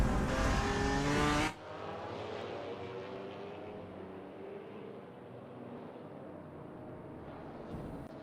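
GT4 race cars lapping the Indianapolis road course behind a field dragging its brakes: a loud, close engine roar that drops suddenly to a steady, more distant drone of several cars circulating.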